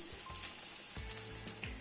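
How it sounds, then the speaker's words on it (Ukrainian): Steady frying sizzle of fish in a pan, a constant hissy crackle with a few soft clunks of a utensil moving food. "І в тій послідовності обсмажую всю решту риби."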